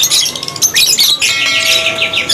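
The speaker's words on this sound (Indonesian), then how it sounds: "Ini untuk stok-stok ya dari burung lovebird yang tersedia." Many caged lovebirds chirp and twitter constantly over one another, a dense, busy chatter of high tweets close by, at a bird kiosk in a market.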